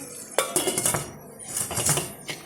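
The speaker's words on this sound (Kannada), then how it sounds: "ಲಿಡ್ನ ಕ್ಲೋಸ್ ಮಾಡ್ತಾಯಿದ್ದೀನಿ." A metal lid is set onto a cooking pot of mutton in a yogurt and spice marinade for biryani, giving a sharp clank followed by rattling metallic clinks and a second scrape of contact near the end.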